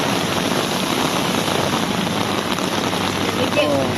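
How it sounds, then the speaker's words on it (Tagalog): Steady, dense rain from Typhoon Carina hisses loudly and evenly throughout on a flooded road in Tondo, with a faint engine hum in the background. "Malakas pa rin ang ulan"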